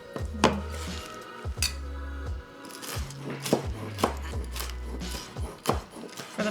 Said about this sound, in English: I'm going to roughly chop the spinach.